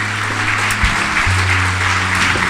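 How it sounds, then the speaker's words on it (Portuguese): A church congregation applauds during a worship service, a dense, steady clapping that fills the space beneath sustained organ or keyboard notes. "Vamos aplaudir nosso Deus."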